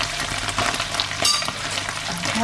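Black beans, some mashed and some whole, stirred and scraped in a hot pan with sauce, giving a steady close sizzle and fry with soft scraping movements throughout, and no voices.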